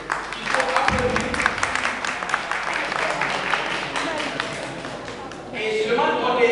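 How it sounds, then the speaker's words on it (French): Applause from an audience at a political party meeting in Casablanca, sustained mid-level clapping across the room, easing off before a brief burst of crowd noise at the close. "merci pour l'applaudissement"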